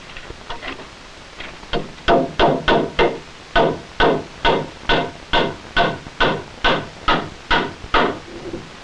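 Nails are hammered into a wooden beam while building a family fallout shelter, with a few light taps followed by a steady run of about fourteen heavy, evenly spaced blows, near and loud.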